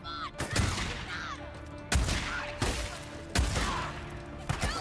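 Gunfire in the video game Days Gone: several loud, sharp shot bursts at roughly one-second intervals, each with a ringing tail, over a busy background of game noise.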